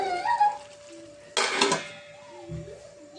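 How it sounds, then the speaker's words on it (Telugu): A metal lid set down on a pan of simmering brinjal curry gives one bright clatter in the middle, amid a faint kitchen background with a steady hum. "దీన్ని మూత పెట్టేద్దాం"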